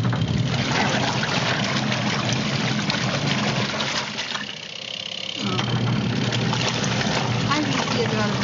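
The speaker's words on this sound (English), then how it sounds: "it's a very powerful motor and spins at a very, very hard RPM there" A Panda compact portable washing machine with a spin dryer and a powerful motor spins at high speed. It makes a loud, constant whirring rush with a brief dip midway before returning to full speed.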